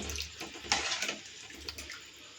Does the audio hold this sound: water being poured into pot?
yes